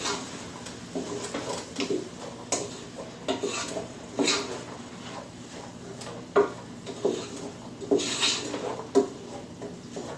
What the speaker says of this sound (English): Give this a quick little stir here.